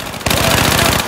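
An MTAR assault rifle in the Battlefield 4 multiplayer shooter fires a fast automatic burst of evenly spaced, loud, close shots, starting abruptly after a short quiet lead-in.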